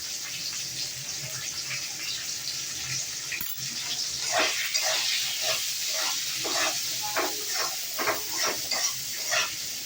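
Potatoes sizzling in hot oil in a home kitchen for a Bengali fish curry, a steady bright hiss with irregular crackling bursts that grow busier toward the end, close and continuous, with no voices.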